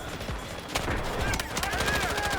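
Rapid gunfire from a Chinese-made submachine gun in the shooter game Delta Force: dense, overlapping automatic bursts and crackling shots, growing louder partway through, with a voice talking over the action.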